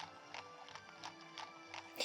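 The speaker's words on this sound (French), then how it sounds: "Il se presse pas, le cheval." Horse hooves clip-clop at a steady walking pace in the video game Disney Magical World, a carriage horse trotting along at midnight, moderately near and alone with no talk over it.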